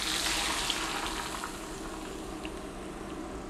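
Hot oil with ginger and chili poured over noodles, a dense steady sizzle and crackle heard close up, strongest at the start and easing slightly, with no voices.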